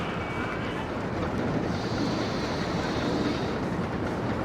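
Continuous rushing, rumbling wind-and-track roar of a flying roller coaster ride in RollerCoaster Tycoon on a moon base, steady and loud throughout with no pauses.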